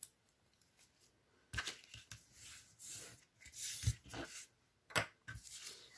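Double-sided tape torn by hand while assembling a paper craft box, several quiet, sharp ripping and crinkling bursts spaced irregularly, close up and faint, without speech.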